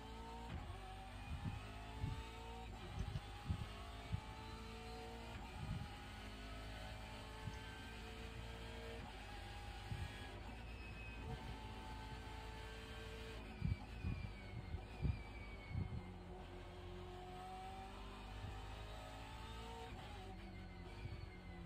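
An iRacing sim race car engine hums continuously with rising and falling revs, occasional sharp bursts and tire skids punctuating a steady mid-level drone, no voices.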